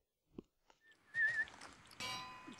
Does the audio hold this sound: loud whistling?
yes